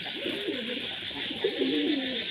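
An Indian-breed pigeon cooing close by, two rolling, throaty coos in quick succession over a steady hiss of background noise, with no voices.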